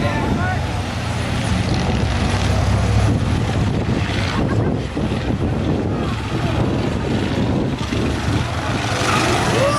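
School buses racing on a figure-8 track, a loud, continuous rumble of engines mixed with heavy wind buffeting on the microphone, steady throughout.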